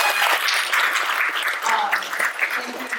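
Warm, sustained applause fills a wedding gathering as guests clap for the photographer, with a few voices and cheers mixed into the dense clapping throughout.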